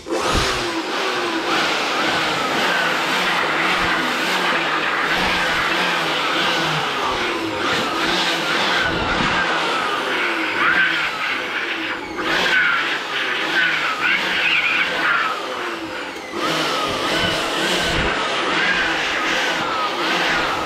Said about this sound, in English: We'll also get our blower to blow off the dust.